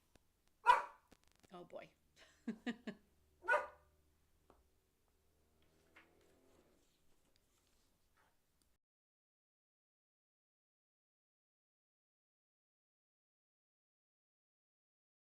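Dog barking in a handful of sharp close barks in the first few seconds, then near silence with a faint murmur; a voice speaks briefly.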